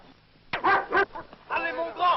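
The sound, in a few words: dog barking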